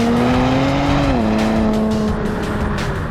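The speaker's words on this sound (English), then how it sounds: "get on it, and this exhaust makes some noise" A 2023 Nissan Z Performance with automatic transmission pulling hard under acceleration: a loud, close exhaust note climbing in pitch, briefly dipping at a shift, then climbing again, heard alone.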